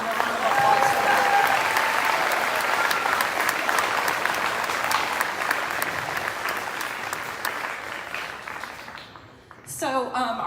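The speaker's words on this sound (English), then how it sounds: "So I think these guys really deserve a round of applause for that" Audience applauding at a middle school pops and awards band concert, a dense sustained clapping crowd that slowly thins out and fades, followed by someone speaking at the end.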